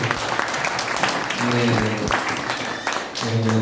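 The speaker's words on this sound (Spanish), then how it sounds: "Un fuerte aplauso para ustedes." Applause from a church congregation, a rough wash of clapping mixed with a loud voice and a sustained musical tone underneath.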